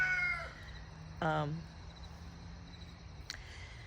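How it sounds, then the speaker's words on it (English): Young roosters about 18 weeks old give short, rough crowing and squawking calls nearby, one at a time, amid a steady background hum. "So these are the roosters."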